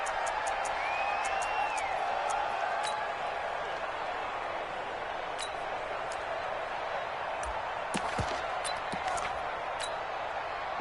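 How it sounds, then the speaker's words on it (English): Steady roar of a large football stadium crowd building ahead of a big third down, a continuous wash of cheering with occasional sharp claps and whistles on top. "The crowd getting into it as we come up on a big third down"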